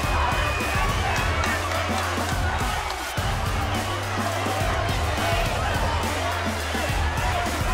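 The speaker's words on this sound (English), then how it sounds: "The crowd is going wild." A loud boxing arena crowd roars and cheers continuously at a women's boxing match, the noise surging and dipping with shouts and whoops, while an excited commentator talks over it.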